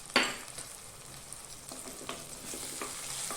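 Kashmiri chili powder sizzling in hot oil for a fish curry, stirred with occasional spoon scrapes, a continuous close-up frying hiss with a sharp clink near the start.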